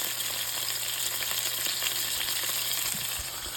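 Stuffed whiting fillets fry in a pan with a steady, loud, close sizzle and crackle that holds without a break, with faint clinks near the end and no talking.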